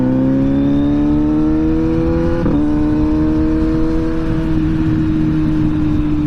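A Kawasaki Z900 SE motorcycle with quick shifter and auto blip accelerates, its engine note climbing steadily, dipping briefly at a gear change, then pulling on in a loud, continuous drone.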